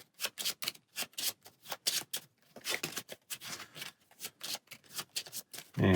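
Marvel Champions cards riffled and shuffled by hand at close range, a rapid series of crisp flutters and snaps in short bursts, ending with a soft thud as the deck is squared.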